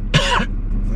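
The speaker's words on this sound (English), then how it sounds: "I've gotta cough three times." A person coughs once during a COVID-19 test in Los Angeles County, a single short, close, loud cough with a throaty tail.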